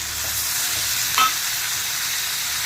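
Onions frying in a pan for Gujarati-style masala chole as tomatoes go in, a steady close sizzle throughout with a brief louder clatter or stir partway through.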